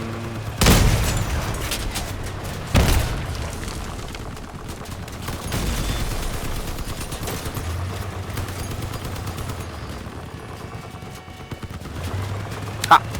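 Heavy cannon shots from a tank in the vehicle-combat game Crossout, two loud booming blasts near the start followed by rumbling engine and battle noise, with a softer report later.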